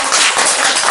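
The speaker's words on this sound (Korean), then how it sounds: "집에서 박수 한번 치시죠." A short burst of dense clapping from many hands at a Buddhist Dharma talk in Seoul, loud and continuous, filling the whole moment.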